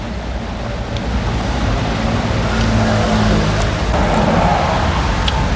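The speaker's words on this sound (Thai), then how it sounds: "อาจจะได้ยินเสียงรถในเด้อนะพี่น้องเพราะว่าห้างอยู่ติดกับถนนได้ยินเสียงรถเสียงดังแน่มีเสียงรบกวนแน่เนาะ" Steady low road traffic from a street beside a shopping mall, a continuous broadband rumble of passing vehicles that swells slightly partway through, with no talk.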